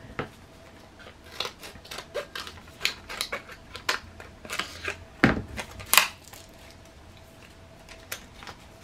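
A Slice safety blade cutter slicing through packaging, a string of sharp, close clicks and snips in irregular bursts, the loudest cuts in the middle, then fading to quiet, with no talking.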